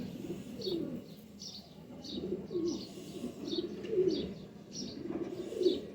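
Flying pigeons of a prized breed with pearl eyes coo in a steady series of low, soft calls, about six repeated phrases over a faint background of higher chirps.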